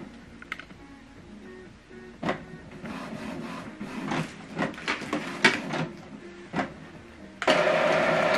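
An Epson XP-4200 inkjet printer runs its ink initialization, whirring and clicking mechanically at close range, with intermittent motor bursts and a louder sustained hum near the end.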